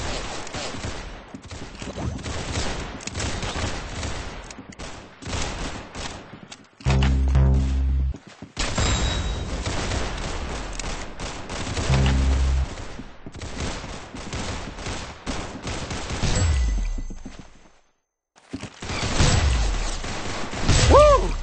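Gunfire from the Roblox game Arsenal crackles in dense, loud volleys and rapid bursts, with a few short pauses and occasional heavier blasts throughout.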